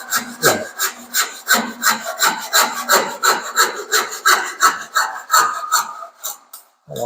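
A Ryoba Japanese pull saw cuts through wood with a steady series of rasping strokes, about two per second, close and loud with no talking.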